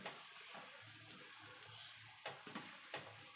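Pea-stuffed paratha frying in a pan, a soft steady sizzle with faint crackles and a few light scraping clicks toward the end, quiet and close with no talk.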